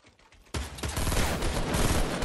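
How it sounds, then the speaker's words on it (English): Rapid sustained gunfire in the Fortnite battle royale video game, a loud dense burst of shots erupting suddenly after a quiet moment and continuing without pause, with no talk over it. "I'm getting shot at."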